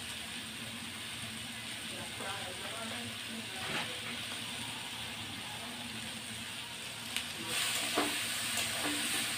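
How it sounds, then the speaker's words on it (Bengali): Chopped stalk curry fries in a pan, a faint, steady sizzle running throughout with occasional stirring scrapes and a slightly louder stretch near the end. "লাল লাল করে ভাজা হচ্ছে"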